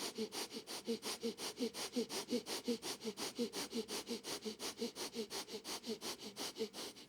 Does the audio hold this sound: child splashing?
no